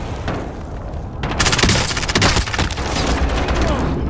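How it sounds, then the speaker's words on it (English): RPG blasts and gunfire in Call of Duty: Modern Warfare, a loud booming burst with cracking shots that erupts partway through and keeps rumbling, while a player's voice talks. "somebody shooting RPGs at me"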